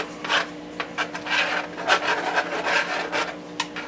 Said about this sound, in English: Scrape up all those little tiny bits on the bottom